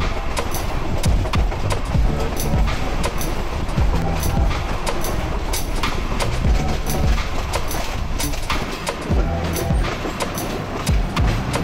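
The Padma Express passenger train runs at night, giving a loud, continuous rumble with rapid rhythmic clickety-clack of wheels over rail joints and occasional metallic squeals.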